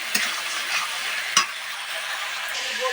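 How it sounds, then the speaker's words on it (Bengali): Spices with chili paste and chopped tomato sauté in a pan, a continuous close sizzle broken by occasional scraping stirs and a clink of the spoon against the pan. "দিয়ে দিচ্ছি লঙ্কা বাটা দিয়ে দিচ্ছি টমেটো কুচিটা এটা দিয়ে এবার একটুখানি কষিয়ে নেব"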